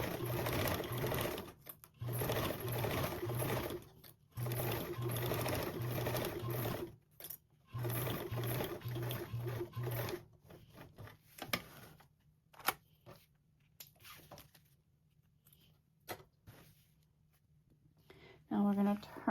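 A sewing machine stitches fabric binding in several loud, close bursts of rapid whirring, stopping and starting, then giving way to quieter clicks and handling noises.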